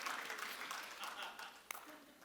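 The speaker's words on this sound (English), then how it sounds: "let's give Steve Cutt a big round of applause" An audience gives a round of applause for Steve Cutt at a real estate talk, a steady wash of many hands clapping with one sharper clap standing out near the end.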